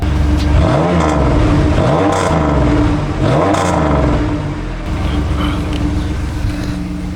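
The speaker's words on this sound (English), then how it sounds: "Not a bad sounding V6 at all" A 1998 Pontiac Firebird with a V6 and 176,000 miles idles and revs close by: a steady loud engine drone that swells and falls through a couple of throttle blips, then settles into an even idle.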